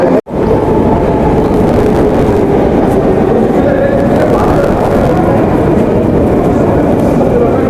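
A Moscow Metro underground train rolls through a deep tunnel, giving a loud, steady roar and rumble that fills the whole ride.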